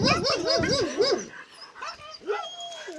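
A guide dog for the visually impaired barks and whimpers close by, with rapid yelping, whining rises at the start and a few more whimpers after a pause, loud and near.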